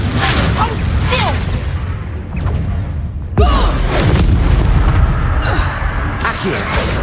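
In Hogwarts Legacy, an Incendio fire spell erupts in a loud, whooshing burst with a booming impact, set within a continuous din of spell combat and sweeping magical effects.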